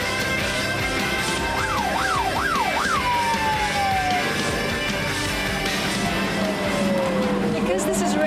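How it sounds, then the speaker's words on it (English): A British emergency ambulance siren wails loud and close, rising and falling in quick yelps before settling into a long sweeping tone, over steady road rumble. "we're authorised to use the siren and the blue light in order to help us get through any heavy traffic we come across."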